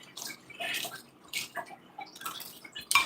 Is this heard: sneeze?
no